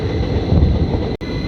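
The Sachkhand Express rumbles past on the rails, a loud steady roar with wind buffeting the microphone and a brief dropout near the end.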